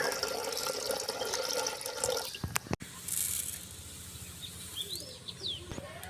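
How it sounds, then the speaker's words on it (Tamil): Rice washed by hand in water while preparing Thai Pongal: about two seconds of steady sloshing and rinsing, then a few sharp splashes and scattered drips, with faint birdsong in the background and no voices. "இப்போ இது தண்ணி ஊற்றி நல்லா களைஞ்சிக்கிடலாம்."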